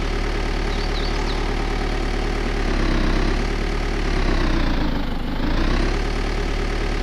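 A tractor engine idling in the DayZ video game, a loud, steady low-pitched diesel chug with a gentle rise and fall in revs, heard alone and close.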